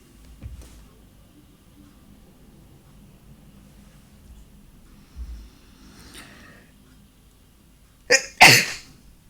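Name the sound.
sneeze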